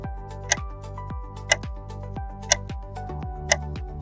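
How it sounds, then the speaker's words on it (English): A clock ticks evenly about once a second, each tick crisp and close with a faint low tock between, alone in a quiet room. "Answer A, clock."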